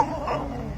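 A white mother dog barks once or twice nearby in a short burst, with a little background noise.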